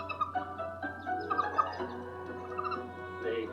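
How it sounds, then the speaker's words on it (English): A mother duck below the nest gives soft, pulsing clucks while ducklings peep in rapid high chirps, fairly close and moderately loud over a steady low hum, with no talking. "She'll drop down below the nest and start clucking in this soft, pulsing call"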